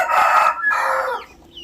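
Brahma chickens crow loudly and close by, with a long harsh crow broken by a short gap and followed by clucking as it trails off.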